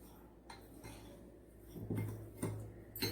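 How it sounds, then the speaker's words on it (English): A spoon mixes chocolate ball mixture in a bowl, giving a few soft scraping clinks and knocks against the dish, fairly quiet and close, with no talk. "Mix all this well"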